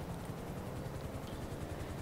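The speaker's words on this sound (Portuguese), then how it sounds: "olha lá, ó, tá vindo o helicóptero" A helicopter in the video game GTA V Online drones steadily with a low rhythmic rotor chop, constant and fairly loud throughout without talk.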